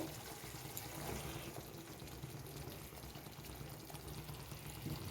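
Tomato paste goes into frying masala for a catla fish kalia, making a faint, steady sizzling pour-like hiss that carries evenly throughout with no speech.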